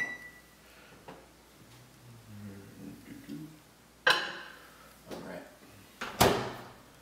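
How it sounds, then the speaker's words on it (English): A kitchen microwave door clicks and thuds shut, then the keypad and latch sound in a few sharp, close clunks, with someone speaking quietly before them. "we're going to pop it in the microwave for 2 minutes"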